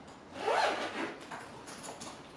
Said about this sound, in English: Zip it up.